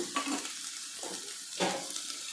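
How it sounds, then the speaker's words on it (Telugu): Ingredients for mutton biryani frying in a pan until golden: a soft, steady sizzle broken by a few louder scrapes and stirs of a spoon against the pan, with no voices. "ఇవి చక్కగా గోల్డెన్ కలర్లో వేయించుకోవాలి"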